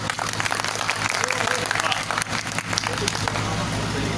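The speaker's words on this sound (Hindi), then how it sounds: "एक मरतबा ताली बजा दीजिए भाई।" Steady applause from a mushaira poetry audience fills the whole stretch, dense and continuous with a murmur of voices mixed in.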